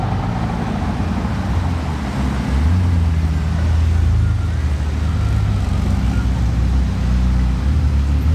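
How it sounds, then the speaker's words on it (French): A brand-new Ferrari F80 supercar arriving at the Historic Grand Prix in Monaco, its engine rising to a low rumble partway through over street crowd noise and faint voices. "L'arrivée de la toute nouvelle Ferrari F80"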